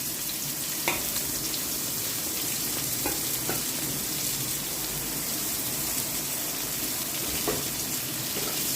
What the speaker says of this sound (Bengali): তো দেখো ভালো করে নেড়ে চেড়ে ভেজে নিচ্ছি।